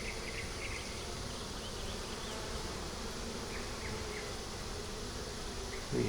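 Honey bees buzz steadily around an open, honey-bound three-deep eight-frame hive, a dense, even drone that stays close and moderately quiet throughout with no talking.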